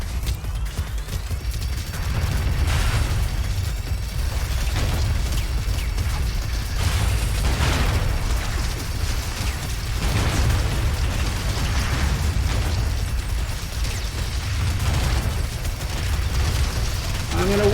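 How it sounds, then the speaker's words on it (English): Mortar explosions in the Robocraft video game, heavy rumbling booms and bursts repeating over a dense, continuous wash of battle noise, with a voice talking over parts of it. "Oops, somebody's got a mortar."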